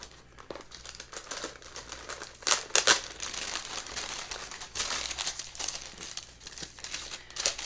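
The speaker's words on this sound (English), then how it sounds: "We have the tissue paper, so we're going to peel that back." Tissue paper inside a beauty subscription box is peeled back and crinkled, close and continuous, with louder rustling bursts in the middle.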